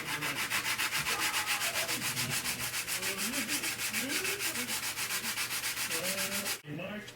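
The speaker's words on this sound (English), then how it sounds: "I'm going to sand this panel first, then we're going to do that panel just to see how it looks." Sandpaper rubbing back and forth over the body panel of a 1/16 scale RC General Lee car, quick rhythmic rasping strokes held close and steady, stopping abruptly near the end.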